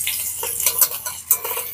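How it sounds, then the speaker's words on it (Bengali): Chopped onion and ginger fry in a pan with oil, a close sizzle broken by quick scraping stirs of a spatula against the metal. "খুব ভালো করে পেঁয়াজটাকে প্রথমে ভেজে নেব"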